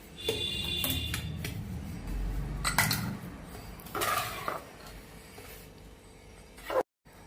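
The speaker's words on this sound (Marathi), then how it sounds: "पाकामध्ये आपण रवा हा मिक्स करून घेऊया।" Semolina is stirred into hot sugar syrup in a pot, with a spoon scraping and clinking against the metal in irregular bursts, some louder knocks and softer swishing between, close up.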